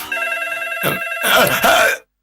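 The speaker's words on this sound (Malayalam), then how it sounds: "അയ്യോ, ഫോൺ" A telephone rings with a steady electronic bell tone for about two seconds, briefly broken by a noisy burst partway through before the ringing cuts off abruptly.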